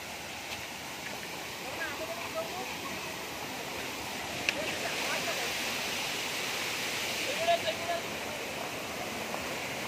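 Large jungle waterfall in Bargard heard as a steady broad rushing roar of falling water, continuous and fairly loud, with faint occasional bird calls or voices in the background.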